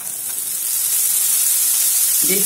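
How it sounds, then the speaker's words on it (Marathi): Diced potato hits a hot pan of oil while Maggi noodles are being cooked, giving a steady, fairly close hissing sizzle that holds evenly throughout. "याच्यात मी बटाटा टाकून घ्यायचा."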